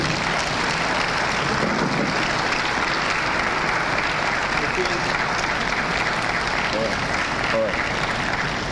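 Sustained, dense audience applause fills a hall at a South East venture capital program event in Enugu, steady and loud from start to finish with no pause.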